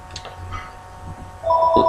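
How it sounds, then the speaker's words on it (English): A telephone sounds with a steady electronic tone in short bursts, fairly loud, over faint room background with no talk. "Sorry about the phone."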